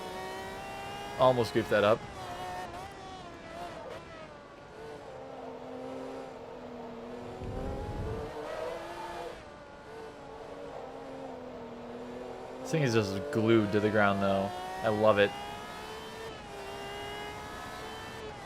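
A high-revving race car engine with an 11,000 RPM redline screams through gear changes in Forza Motorsport 2, with loud bursts of revving and shifting, then a steady drone. Someone talks over it.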